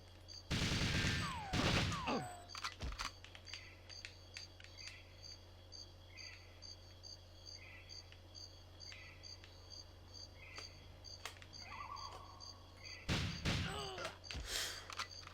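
Gunshots in the GoldenEye video game, a couple of loud sharp bursts at the start and again near the end, separated by quiet jungle ambience with steady insect-like chirps.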